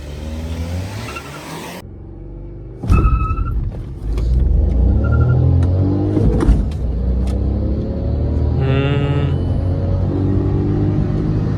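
A Skoda Octavia and a Stage 1 VW Vento TSI with a manual gearbox launch in a drag race, engines rising into loud revving acceleration with gear shifts, a deep rumble and a brief tire squeal, heard close up without talking.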